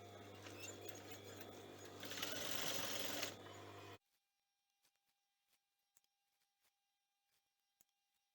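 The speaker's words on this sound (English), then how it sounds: "just stitching underneath that overlocking." An overlocker sewing machine stitches a dress seam in a steady mechanical whir for about four seconds, then stops abruptly, leaving near silence with faint clicks.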